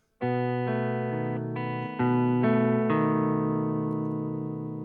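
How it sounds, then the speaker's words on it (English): Sustained, heavily distorted electric guitar chords ring out loudly, changing a few times and held with a thick, buzzing tone. "This is a nice chord."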